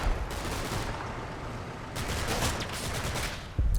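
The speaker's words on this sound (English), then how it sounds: "Why would you notice the muzzle flash of a Stug 4 about 20 metres away?" StuG IV gunfire in the Combat Mission: Battle for Normandy video game, a dense, continuous roar of battle noise with heavier surges partway through and a sharp blast at the end.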